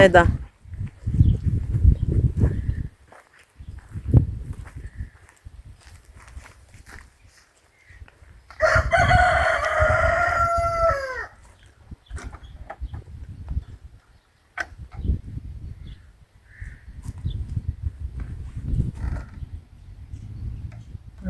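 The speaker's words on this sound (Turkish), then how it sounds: "Tavuklarla başım belada." A rooster crows once in a village yard with hens, a loud drawn-out call of a few seconds that falls away at the end, set between scuffing footsteps and bursts of nearby talk.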